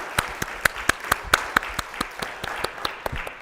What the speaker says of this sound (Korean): 다시 한번 감사의 박수 하도록 하겠습니다